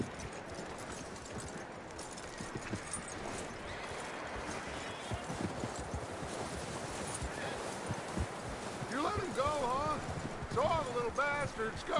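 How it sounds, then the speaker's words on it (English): Horse hooves clip-clop at a steady rhythm in the Red Dead Redemption 2 video game, moderately loud, with rustling and speech over them and a brief bird-like chirping near the end. "That looks like a decent horse."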